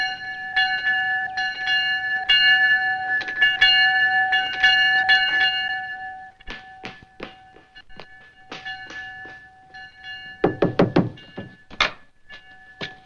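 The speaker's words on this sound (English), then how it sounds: "That's a train bell" A bell rings with a steady metallic clang, followed by scattered knocks and thumps. The bell is identified as a train bell up on a hill.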